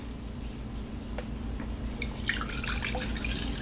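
Water is poured into a small vessel to hydrate yeast for a mead batch, giving faint trickles and drips that grow busier and splashier in the second half, with no talk over them.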